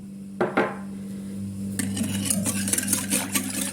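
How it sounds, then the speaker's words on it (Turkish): A spoon stirs warm water, yeast and sugar in a bowl for simit dough, giving a brief clink followed by quick scraping, tapping strokes close up over a low background hum. "Şöyle bir karıştırıyorum."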